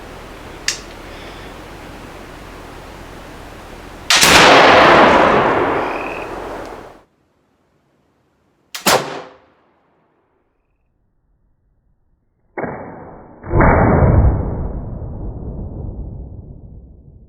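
Traditions .50 caliber flintlock Pennsylvania rifle fired outdoors: a loud booming shot with long decay, a short sharp report, then a quick double crack and rolling boom trailing off, separated by silence.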